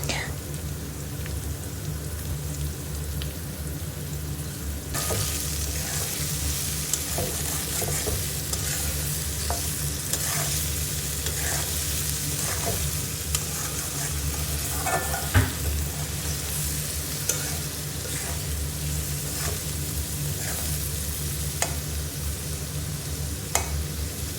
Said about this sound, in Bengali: সব কিছু দিয়ে সুন্দর করে সবজিটাকে ভেজে নিতে হবে